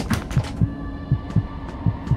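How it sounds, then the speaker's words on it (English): A heartbeat in Five Nights at Freddy's: Into the Pit throbs in close paired thumps, about four double beats in a couple of seconds, over a faint steady hum. "I feel my heart beating."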